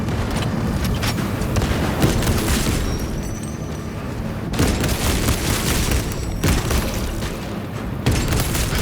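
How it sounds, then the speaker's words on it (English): In a video game, a frag grenade explosion and other battle noise make a dense, sustained roar of booming blasts and rumble, loud and continuous with no talk. "Throwing frag grenade!"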